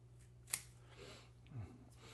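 A single crisp snip of bonsai scissors cutting back a ficus branch, a sharp close click standing out from a quiet room hum, followed by a softer faint rustle.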